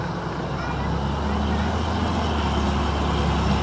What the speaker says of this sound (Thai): รถที่สองมาแล้วครับวิ่งมาแล้วครับผม